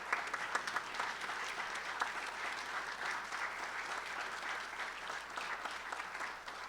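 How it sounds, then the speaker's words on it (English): Audience at a memorial service applauds the Distinguished Drinko Fellows, a steady, moderately loud round of clapping with some sharper individual claps standing out, continuing throughout without talk. "I'd like to ask for a round of applause for them"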